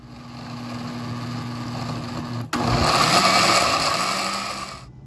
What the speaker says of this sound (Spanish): Y ya solamente lo vamos a licuar perfectamente.